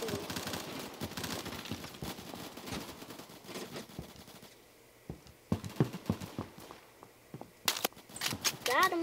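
Gunfire in the Roblox shooter Phantom Forces: rapid bursts of clicky shots and fainter distant firing, uneven and fairly quiet, rising into louder clustered bursts toward the end.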